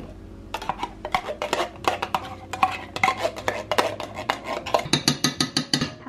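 Rice, cream of celery soup and sour cream stirred together in a cooking pot during home meal prep: a steady run of scraping, clinking utensil strokes against the pot, close and fairly loud, with no talking.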